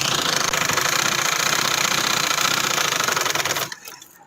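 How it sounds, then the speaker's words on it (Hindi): A sewing machine stitching trouser fabric runs in a loud, close, steady mechanical whir with a fast rhythmic clatter, then slows and stops near the end, leaving quiet. "तो मैंने इसको इस तरह सिलाई लगा दी है।"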